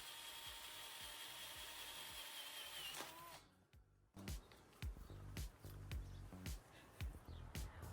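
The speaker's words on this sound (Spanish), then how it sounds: "Hacemos los agujeros con la broca que hemos elegido." A hand drill boring holes with a chosen bit as riveting preparation, giving a steady whirring drone that cuts out, then a series of short sharp mechanical clicks and bursts near and fairly loud.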